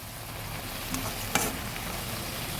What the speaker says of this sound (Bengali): ভালোভাবে নেড়ে মিশিয়ে দিচ্ছি